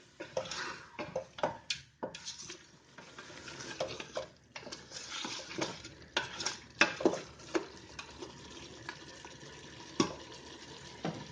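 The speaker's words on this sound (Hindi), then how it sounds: "लाल मिर्च का पाउडर, धनिया पाउडर, अब अच्छी तरह मिक्स कर लेना है।" Mutton being stirred and mixed with red chilli and coriander powder in a pan, making soft irregular scraping and clinking of a spoon against metal, quiet and close, with a faint sizzle.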